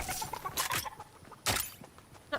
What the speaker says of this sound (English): I'm gonna try and grab the chicken and fly off at least.